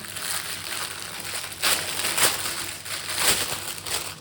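Crinkling and crushing of plastic packaging around protective safety shoes close by, with a few louder rustling bursts as it is pulled open.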